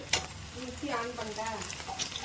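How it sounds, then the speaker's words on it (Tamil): Onions sautéing in a pan for pepper chicken, a soft steady sizzle with light stirring and scraping, fairly close, with faint voice-like tones drifting in and out. "வெங்காயம் நல்லா வதங்கிடுச்சு"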